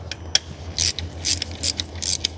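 Ratchet wrench undoing the alternator bracket screws on a BMW N62 V8 engine, heard as several quick bursts of sharp ratcheting clicks with short pauses between them, close up against a low steady hum.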